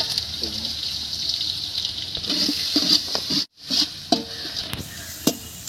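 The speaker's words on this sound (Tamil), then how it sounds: "வெங்காயம் வந்து கொலன்னு ஆகக்கூடாது, நல்லா ஃப்ரை ஆகணும்" Onions frying in a pan for home-style chicken biryani: a steady, bright sizzle runs throughout, broken by scraping and stirring knocks of a utensil, with a brief dropout midway and a voice faintly audible at times.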